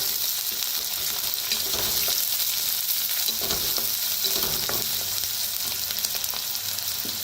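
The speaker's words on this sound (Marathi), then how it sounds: "कांदा, कांद्याला भाजून घेऊया" Onions sizzle and crackle steadily in a hot pan, a dense, continuous frying hiss with occasional stirring scrapes, close and fairly loud, with no voices.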